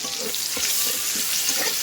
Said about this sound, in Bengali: 5 ফোড়ন আর পেঁয়াজ কুচিটা আমার লাল করে ভাজা হয়ে গেছে